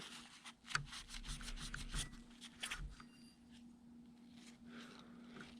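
Scrubbing at a Honda SL100 motorcycle part to lift old varnish after spraying it with brake cleaner, a close, dry rasping rub in quick repeated strokes that thins out and fades toward the end.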